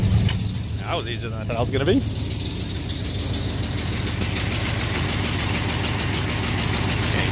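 A 1974 Ford F100 with a 360 V8 runs at a steady, loud, rumbling idle throughout, close up, while someone talks over the engine noise.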